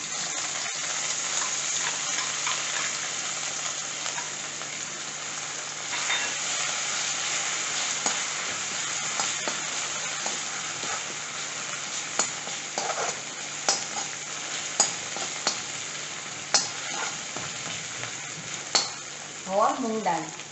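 Spice paste with asafoetida sizzles and crackles in a hot pan for spinach and moong dal sabzi, a steady frying hiss with sharper pops and stirring scrapes toward the end.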